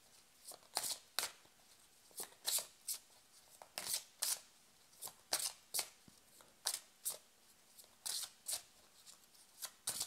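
Tarot cards are shuffled by hand for a reading, producing close, crisp riffling bursts that repeat in a steady rhythm about once a second, with no talking over them.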